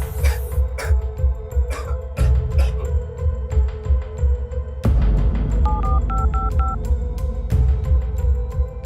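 A short run of electronic dialing beeps sounds in quick succession midway through, over a steady hum with scattered clicks and knocks.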